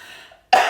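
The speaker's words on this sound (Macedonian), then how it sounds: "само досадна кашлица" A single short, sharp cough from a person with an irritating cough, a sudden burst after a brief silence, near and alone.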